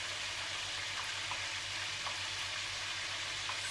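Cumin and garlic-ginger paste frying in a pan, a steady close sizzle with small pops and crackles throughout, alone with no talking.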